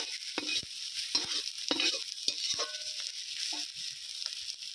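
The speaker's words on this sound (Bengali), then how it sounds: "সব কিছু ভালো করে কষিয়ে নিচ্ছি মশলার সঙ্গে।" Spices fry with red chilli powder in a pan while a spoon scrapes and taps against the metal in a few sharp, separate strokes over a low hiss.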